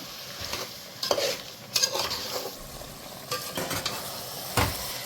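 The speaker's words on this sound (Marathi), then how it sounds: "आणि चवीपुरतं मीठ व्यवस्थित असं मिक्स करायचं" Chicken and masoor pulao ingredients being stirred with salt in a pot, with repeated scraping spoon strokes over a steady frying sizzle.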